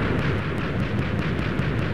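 A dense, rumbling barrage of booming blasts from a video game cannon, loud and continuous with repeated sharp impacts layered throughout.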